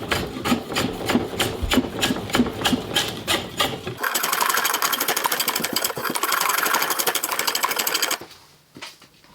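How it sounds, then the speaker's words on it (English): A foot-powered wooden lathe turns wood for a boot rack, first thumping in a steady pedalled rhythm and then shifting into a dense, continuous rasping cut before it fades out. "I'd forgotten how much fun it is to use my foot-powered lathe."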